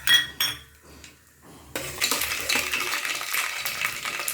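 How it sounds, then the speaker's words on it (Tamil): Mustard seeds, about three spoonfuls, pop and splutter in hot oil while tempering puliyodharai mix, starting with a few sharp isolated cracks before breaking into a dense, continuous crackling sizzle close by. "கடுகு வெடித்தது"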